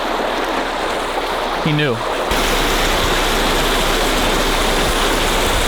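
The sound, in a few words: water gushing from a broken residential water main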